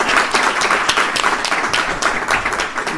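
Sustained applause from an audience at a talk on gender equality in scientific innovation, dense clapping filling the whole stretch at a steady, fairly loud level with no voice over it.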